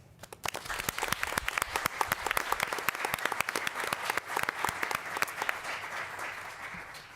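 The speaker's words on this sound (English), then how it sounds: "I would like my board members to join me in a round of applause and appreciation for your joining us every month" School board members clap together in a steady round of applause at a regular board meeting, a close, dense burst of hand claps that swells and then tapers off, with no talking over it.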